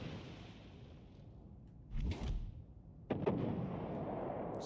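A warship's guns in World of Warships Legends fire at a destroyer, two heavy booming salvos about a second apart over a low, quiet sea ambience, each with a rolling, fading tail.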